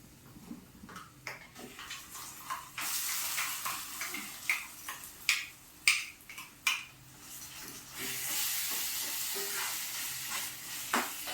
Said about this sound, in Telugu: కొంచెంసేపు ఈ ఆయిల్లోనే కొంచెంసేపు వేగనిద్దామండి